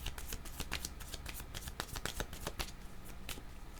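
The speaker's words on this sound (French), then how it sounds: "je tire une autre carte" Tarot cards shuffled and handled in quick, papery riffles and flicks, a steady run of soft crisp snaps close up with no talking.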